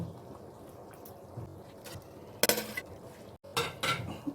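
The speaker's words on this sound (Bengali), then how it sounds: "যে ক্যাপসিকাম, টমেটো আর পেঁয়াজটা ভেজে রেখেছিলাম সেটা দিয়ে দেব।" Fried capsicum, tomato and onion are tipped into a cooking pan for shahi paneer, with a few sharp metallic clinks and knocks of a utensil against the pan over a low background hiss.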